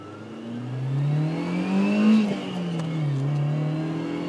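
A 1990 BMW E30 M3 engine idles near 1,000 rpm, then revs up in one smooth rising sweep and settles back down, close and steady with no talk.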